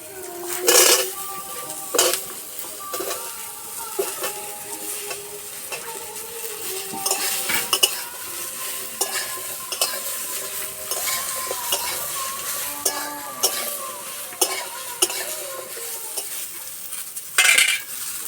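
Onion and ridge gourd being stirred in a pan, repeated scraping and clanking of a spoon against metal over a continuous sizzle, close and fairly loud, with sharp knocks at intervals.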